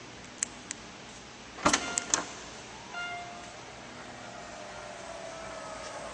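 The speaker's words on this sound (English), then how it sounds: "the power assisted rear gate closes at the push of a button" A power-assisted rear liftgate on a 2012 Mercedes-Benz M-Class closes with a few clicks, a sharp latching thud cluster, then a steady faint motor whine trailing on under a quiet outdoor background.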